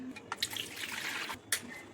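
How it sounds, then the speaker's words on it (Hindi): Liquid from a squeezed kurdayi papad mixture runs through a fine flour sieve, making close, continuous trickling and dripping with small splashy bursts. "हाथ की मदद से अच्छे से निचोड़ते हुए इसका सारा पानी निकाल के छन्नी करके ले लेंगे।"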